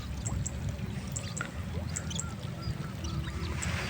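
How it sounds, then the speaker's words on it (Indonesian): A mud volcano beside graves in Central Java bubbles like boiling water. Gas bubbles burst through the mud in a steady stream of small gurgles and pops, thick and close over a low rumbling wash. "semburan ataupun gelembung udara ini ya, yang bercampur dengan lumpur itu"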